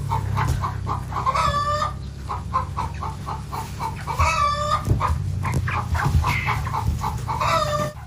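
Broiler chickens cluck close by in quick repeated bursts, with occasional louder, drawn-out calls over a steady low background hum and no talking.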